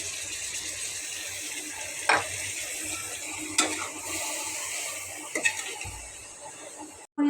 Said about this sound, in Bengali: এখন আমি এগুলো কষাই নিই